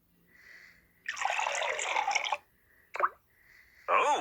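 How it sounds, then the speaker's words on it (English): Cartoon water sounds for a glass of water as a hiccup cure: a gush of pouring liquid, then a short plop and splashy drips, with soft gaps between. "Oh, a glass of water."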